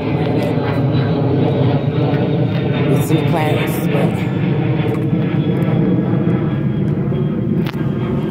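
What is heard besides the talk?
airplane flying overhead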